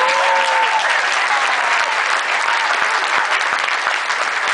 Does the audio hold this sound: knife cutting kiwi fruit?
no